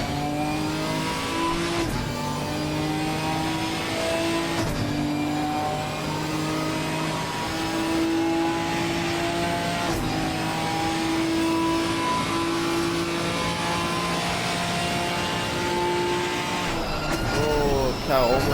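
A GT4 race car's engine drones and revs on the Circuit of the Americas track in a racing video game, with steady rising pitch, repeated gear shifts and a downshift near the end, loud and continuous.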